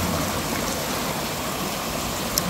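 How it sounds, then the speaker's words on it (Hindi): Forest stream water flowing steadily in a broad, even wash of rushing noise, fairly close and continuous with no voices, one brief tick near the end. "ये जंगल से पानी आ रहे हैं"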